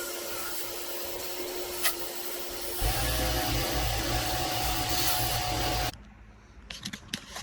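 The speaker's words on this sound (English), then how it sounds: "I didn't think my little compressor in here was going to handle it." A walnut shell blaster fed by a small air compressor cleans carboned, misfiring engine valves, giving a steady loud hissing rush that grows stronger partway through, then cuts off abruptly, leaving quieter short bursts.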